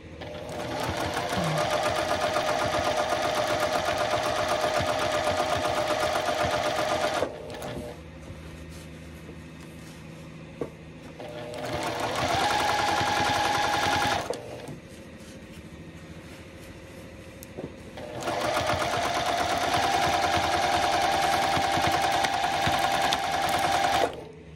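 A sewing machine stitching a French seam runs in three loud, steady bursts separated by short quiet pauses, with no voices over it.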